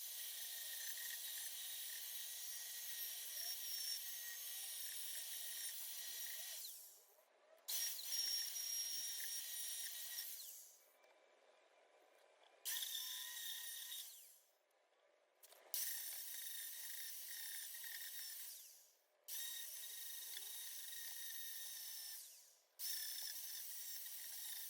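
Angle grinder working rust off the rear quarter panel of a Renault 5 show car, a high whining grind in several long bursts separated by short pauses, heard without talk.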